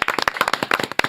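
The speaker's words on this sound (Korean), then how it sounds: "박수로 맞이합니다." Brisk, loud applause from a studio audience welcoming a former police officer and committee chair onto a Korean talk show, a quick run of sharp claps with no voices over it.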